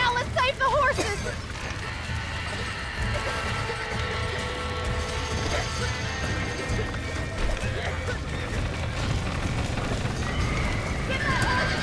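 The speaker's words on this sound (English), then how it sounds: "Now let's save the horses." Horses in the Red Dead Redemption video game neigh and whinny over steady clip-clopping hooves at a run, with a dense layer of game sound and music beneath.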